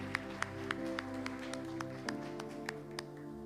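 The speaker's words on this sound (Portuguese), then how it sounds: "E se você crer, dê um aplauso ao Senhor essa hora." A church congregation claps during a worship service: a run of sharp, evenly spaced claps over a sustained background hum, fairly close and steady for several seconds.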